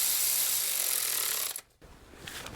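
A ratchet and socket snug down thermostat housing bolts on a Toyota Sienna, giving a steady close clicking rasp that stops briefly and then resumes.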